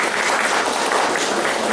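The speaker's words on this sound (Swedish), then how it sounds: "En god applåd." Audience gives a round of dense, even applause for a performer, many hands clapping steadily throughout the short stretch with no voices over it.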